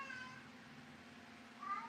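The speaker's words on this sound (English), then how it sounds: "There go my little kitty." A small cat meows faintly indoors, two soft cries at the start and end, beneath a steady low hum.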